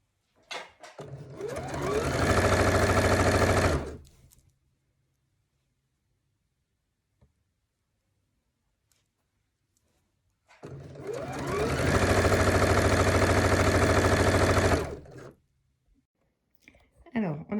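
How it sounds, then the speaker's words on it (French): A sewing machine runs in two steady bursts of about three seconds each, hemming a girl's dress, with quiet pauses between the runs. "moi je couds directement"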